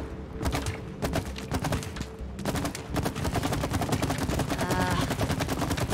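Rapid gunfire in the It Takes Two video game, a dense burst of fast repeated shots that stays loud and close throughout, with game sound effects mixed in.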